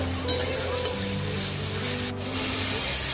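Minced mutton sizzling steadily in a pan while being fried for mutton halua biryani, a continuous close crackle with faint stirring, no talking.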